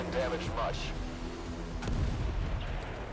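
Tank cannon shots boom in the MWT Tank Battle mobile game, a couple of heavy blasts with rumbling tails over a dense battle din, and someone talks over the fighting.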